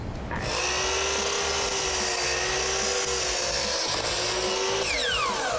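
Power saw blade cutting through wood, loud and continuous up close, with a steady motor whine and a gritty, rasping texture throughout.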